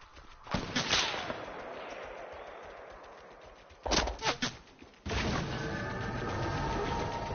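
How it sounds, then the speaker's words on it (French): Video game gunfire: a burst of shots early on, then a tight cluster of sharp cracks around the middle, followed by a sustained loud roar of firing or explosion noise, all fairly close with no talking. "C'est qui tire, hein?"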